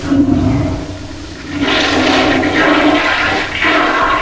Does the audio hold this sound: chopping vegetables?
no